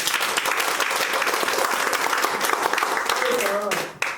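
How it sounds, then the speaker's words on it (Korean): Congregation applauding a preacher at a church revival meeting, dense steady clapping that fills the clip and fades at the end, with a voice briefly rising over it near the close. "전도사에게 박수."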